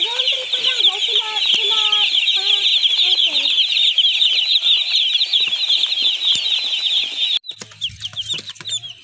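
A batch of broiler chicks and chickens fills a coop with dense, continuous high cheeping and clucking, close and loud, before the chorus abruptly thins near the end to scattered peeps and a low rumble.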